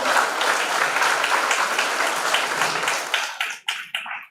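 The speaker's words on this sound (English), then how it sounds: "A big round of applause for all." An audience applauds the participants of a university project competition at a valedictory programme, sustained clapping that breaks into a few scattered final claps before stopping.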